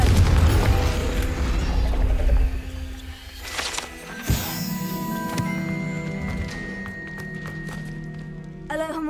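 A Confringo fire-blast spell cast in the game Hogwarts Legacy, heard as loud low booming bursts with mechanical thunks and rumbling tails, one sharp impact near the middle, over continuous game sound with no talking.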